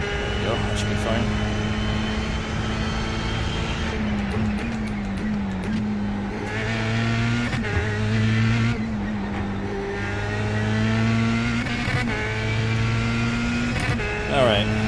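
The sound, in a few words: Formula 3 race car engine topping out gear, iRacing video game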